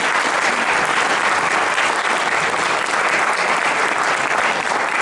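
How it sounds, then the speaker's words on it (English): Steady, dense applause from an audience at a Minnesota State Capitol town hall, thanking the representatives, sustained and loud with no voices over it. "Thank these representatives, if you would, with a round of applause."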